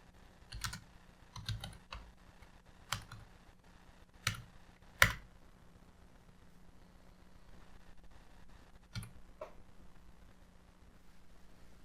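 A few sparse keystrokes and clicks sound on a computer keyboard, sharp isolated taps spaced unevenly apart over a faint hum, with no voice.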